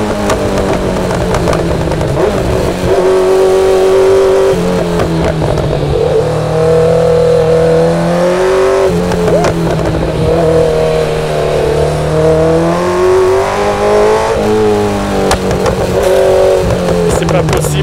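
A Kawasaki Z900 motorcycle with a loud full exhaust revs hard and close up, engine pitch climbing and falling in repeated sweeps for the whole stretch, very loud and continuous.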